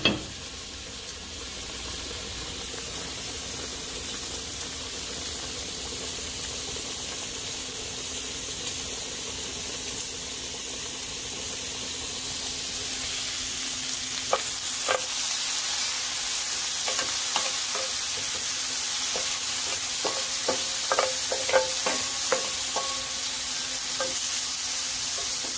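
Rainbow chard and pork belly sizzle in a very hot pan, a constant close hiss. Utensil clicks and scraping clatter come in during the second half.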